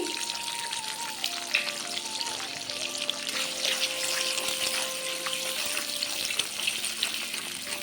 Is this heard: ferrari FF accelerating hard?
no